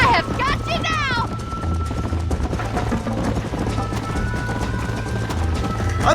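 Galloping horse hooves in the video game Red Dead Redemption, a steady clip-clop rhythm running throughout under constant game music and background noise, with a voice speaking near the start.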